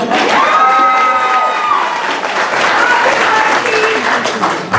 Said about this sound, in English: give him one more hand out there